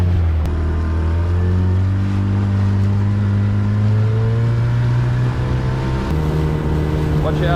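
A boat engine revs under a left-hand throttle, a loud steady motor drone that climbs in pitch and then shifts to a new level near the end, running continuously throughout.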